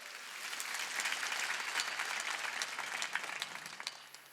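A church congregation at a Sunday worship service breaks into dense applause, many hands clapping together, swelling and then thinning toward the end.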